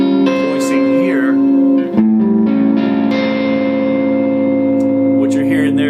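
Altered dominant chord voicing on A, with flat seven, third, sharp five and sharp nine, played through effects with distortion, reverb and echo; a loud sustained chord rings throughout with a brief dip near two seconds, alone.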